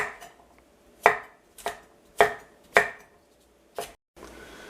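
Five sharp knife chops strike a cutting board at an uneven, unhurried pace, crisp and close, with quiet pauses between each cut, as zucchini is diced into cubes.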